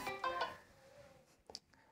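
A mobile phone ringtone for an incoming call plays in a couple of short melodic bursts near the start, then fades into quieter clicks and rustling.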